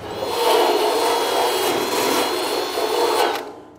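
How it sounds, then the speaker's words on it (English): A power drill runs continuously on a Model A trunk lid, a loud, close, steady whirring with slight pitch wobble, cutting off abruptly at the end. "Well, that drill works better anyway."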